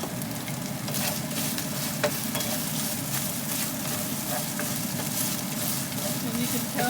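Pork and green bell pepper stir-frying in a pan, a constant crackling sizzle broken by scraping and clacking as the pieces are turned over, fairly close.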